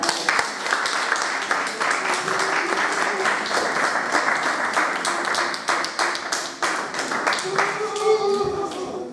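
A church congregation claps together in a steady run of applause throughout, with a few voices rising over the clapping near the end.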